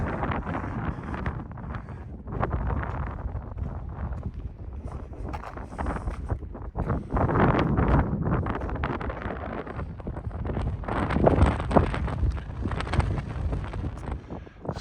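Strong wind buffets the microphone on an exposed ridge walk along the Heysen Trail near Crystal Brook, South Australia, in June. The roar comes in continuous gusts that rise and fall.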